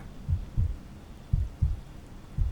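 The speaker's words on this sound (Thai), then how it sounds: "ทำไมผมได้ยินเสียงหัวใจเต้นวะมันน่ากลัวกว่าเดิมอีก" A heartbeat sound effect in the horror video game Midnight Shift, steady low double thumps repeating about once a second, close and muffled over a quiet hum.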